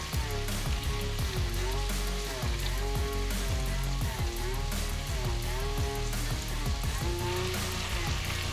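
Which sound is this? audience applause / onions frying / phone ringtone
onions frying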